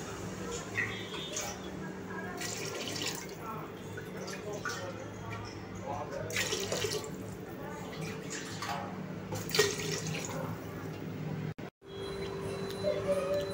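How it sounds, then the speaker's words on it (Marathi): Water pours into a cooking pot in a kitchen as nine glasses are added, with intermittent splashing pours under a person talking. "आता आपण ह्याच्यामध्ये पाणी टाकून घेऊया."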